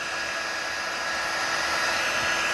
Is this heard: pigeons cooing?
no